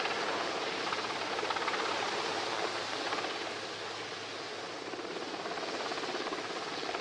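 Steady, loud broadband rotor and turbine roar of a navy helicopter hovering during a commando rope-descent display at a Navy Day event in Visakhapatnam, continuous and unbroken with no talk.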